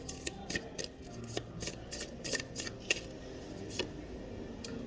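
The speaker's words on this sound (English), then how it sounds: "So let's pull more cards." Tarot cards being drawn and handled from a deck, a string of quiet, close snapping and rustling taps scattered irregularly through the moment, with no voice.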